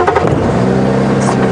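A safari vehicle's engine at Djuma Game Reserve revs and pulls away on a morning game drive, a steady mid-pitched motor drone held close and fairly loud throughout with no voices.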